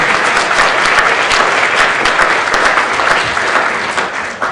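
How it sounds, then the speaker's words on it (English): Audience at an annual history of emotions lecture giving sustained applause, a dense, loud, even clapping that fills the room for several seconds and tapers slightly at the end. "After a round of applause"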